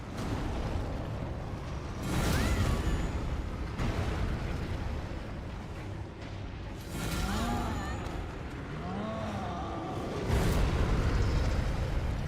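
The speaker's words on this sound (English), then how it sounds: "Pretty sure this has another explosion." Weapon explosions in a video game fighting practice session: three heavy, booming bursts spaced a few seconds apart, each rumbling over a steady noisy background.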